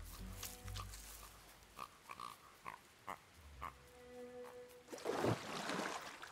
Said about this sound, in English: The pig devoured the fruit with careless abandon.